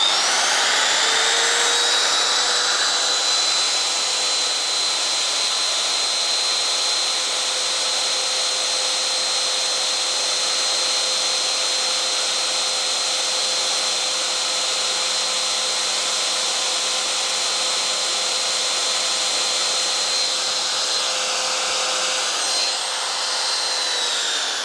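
A Qihoo wood trimmer router runs steadily at full speed with no load, a loud high whine that holds constant for over twenty seconds and then spins down near the end.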